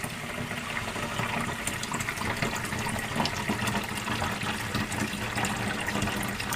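A tap runs steadily into the bathroom sink of a DIY Iveco Daily campervan, a continuous close rushing and splashing of water filling the basin with no pauses.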